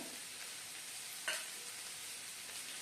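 Onions frying in a pan as ginger and garlic are stirred in, a steady soft sizzle with one brief scrape of the spoon partway through.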